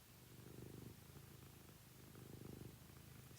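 A cat purrs quietly and close by, a low rumbling drone that swells in two longer bursts with each breath, very soft overall in a quiet room.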